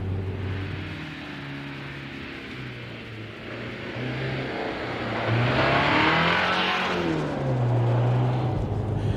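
A Mini Countryman JCW engine revs in manual mode on a winter drive, a steady cabin-heard drone that climbs in pitch, swells louder midway, then drops back as it shifts.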